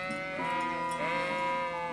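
Several sheep being herded in Kingdom Come Deliverance bleat in quick succession, wavering calls overlapping close by against a sustained tonal game soundtrack.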